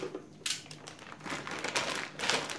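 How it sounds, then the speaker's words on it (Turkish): A plastic bag holding the cable set of a Thermaltake 1200W Platinum PSU is torn open, giving close, crinkly bursts of rustling plastic at irregular intervals, louder near the end. "Bu setleri tek tek poşetinden çıkartarak kullanacağız. Şimdiden de bir tanesini şöyle açalım."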